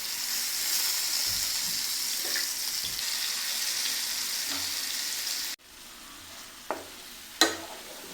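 Butter egg curry masala sizzles loudly in a pan as water and curry leaves go in, a steady close hiss that cuts off abruptly, followed by a couple of sharp clicks in quieter surroundings.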